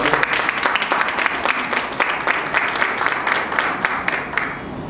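Audience applause at a talk on autism care, many people clapping in a lively, fairly rhythmic patter with distinct individual claps standing out, loud and near, continuing throughout without speech.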